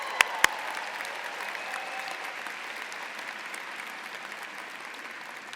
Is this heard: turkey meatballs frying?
no